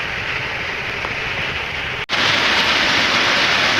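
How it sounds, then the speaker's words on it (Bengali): Heavy monsoon rain in a Sundarban village during a low-pressure storm, a loud dense steady roar of downpour that briefly cuts out and returns even louder. "বৃষ্টি হচ্ছে তো প্রচন্ড,"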